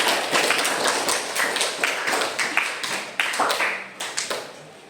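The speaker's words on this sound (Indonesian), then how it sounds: "Tepuk tangan untuk kelompok." A classroom audience claps for a student group after their presentation, giving loud, close, dense applause with sharp individual claps that continues steadily for about five seconds.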